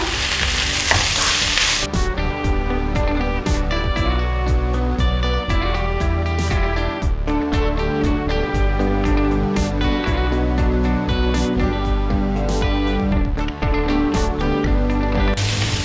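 Shark fish puttu being stirred in a pan on the stove: a continuous fry sizzle under repeated scraping and clinking of the spoon against the pan, fairly close and steady.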